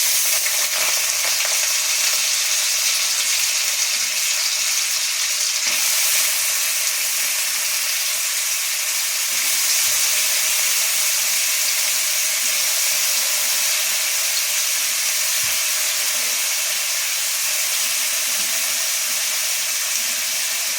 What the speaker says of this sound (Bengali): আগে আলু ভাজাটা ভেজে নিই।